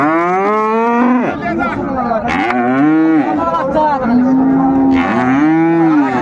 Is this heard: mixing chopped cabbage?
no